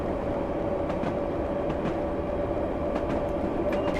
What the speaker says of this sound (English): It's certainly fun having underground in train sim